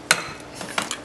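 An egg cracked against the side of a bowl: a sharp tap, then a few lighter clicks of shell, close and fairly quiet with no talking.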